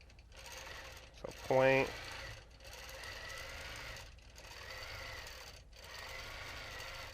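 A sewing machine stitches a quilt border for about half a second in a loud, rapid mechanical burst, then stops. Quiet room tone and brief speech surround it.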